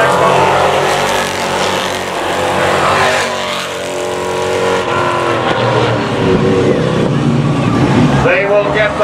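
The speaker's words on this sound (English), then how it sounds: "Twenty-five laps of action here with the late models." Late model race cars circle Capital City Speedway with a loud, sustained engine roar that rises and falls as the pack passes, while an announcer talks over the racing.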